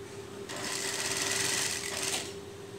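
A sewing machine stitching a girl's dress runs in a steady, fast whirring burst of about two seconds, moderately close and alone, starting and stopping cleanly.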